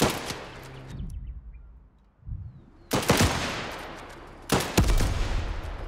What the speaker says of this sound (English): He's shooting the tank.